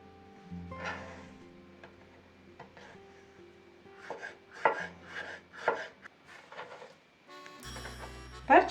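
A knife chops homegrown pepper on a board for marinated cabbage, producing irregular crisp thuds in quick clusters, near and fairly soft, with a louder clunk of handling at the end and no speech.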